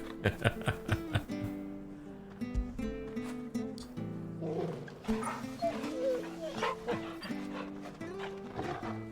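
A dog in the video game Final Fantasy XVI gives a quick run of sharp barks, then whines and growls over a soft in-game musical background, with a few more yips later.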